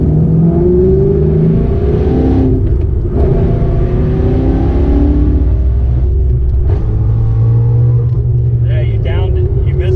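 A Ford Mustang with more than 800 horsepower revs hard on a test drive, its deep rumbling engine rising and falling steadily throughout, with voices talking inside the car over it.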